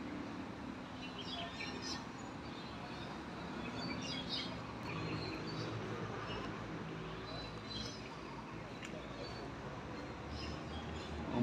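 Faint bird chirps drift through a Buddhist temple garden ringed by trees, scattered tweets over a dense, noisy outdoor background.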